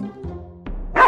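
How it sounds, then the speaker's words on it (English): A Dalmatian gives a single sharp bark near the end of a short stretch, preceded by low growling tones; close and loud. "Dalmatian."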